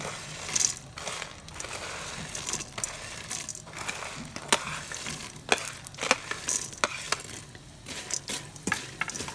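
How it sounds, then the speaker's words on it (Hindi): Pakoras sizzle in hot frying oil with a steady crackling hiss, punctuated by sharp clinks and scrapes of a utensil stirring them in the pan. "इसे भी हम थोड़ी देर बस 1 आध मिनट फ्राई करेंगे"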